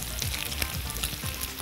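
Chopped onions frying with bacon in a pan, a steady loud sizzle with occasional crackles and a spoon stirring through it, close up and without voices.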